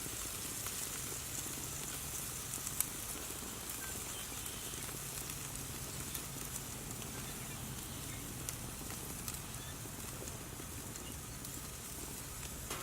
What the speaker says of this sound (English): Listen to that sizzle on the grill.